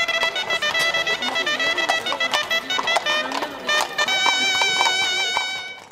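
Horses carrying six mounted knights arrive at a Sant Antoni festival reenactment in Castelló de Rugat. Their hooves clip-clop in an uneven clatter, mixed with ringing tonal sounds, at moderate volume.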